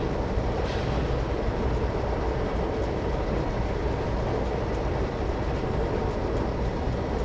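A powerful train in a train simulator game coasts with throttle at zero and brakes off, producing an even, continuous rolling drone at moderate level that never changes pace.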